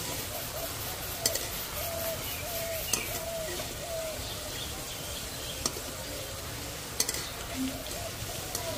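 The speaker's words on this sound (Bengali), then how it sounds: "অল্প অল্প করে জাল দিয়ে এইভাবে আস্তে আস্তে করে ভেজে নিতে হবে" Gram flour boondi frying in hot oil a little at a time over gentle heat, a continuous low bubbling sizzle with a few faint clicks and taps across the whole stretch.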